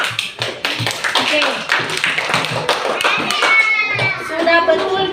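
Schoolchildren in a classroom clap their hands for a group, giving a quick burst of scattered, uneven claps and taps, with children's voices and a teacher speaking over the clapping.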